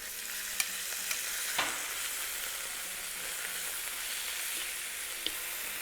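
Steak strips sear in an oiled pan with a continuous bright hiss, spread in one layer, with a few sharp pops and clicks scattered across the steady sizzle.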